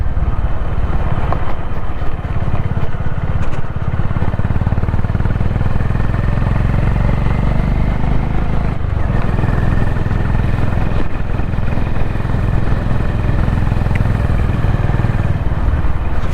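Honda CB350 motorcycle engine running steadily and loud throughout a solo ride on light off-road gravel, a constant low rumble with wind noise and no talk.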